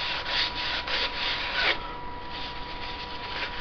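Cloth rubbing Danish oil into a turned natural-edge ash wood piece, a steady, close scrubbing in quick repeated strokes with one firmer pass, then a softer continuous rub.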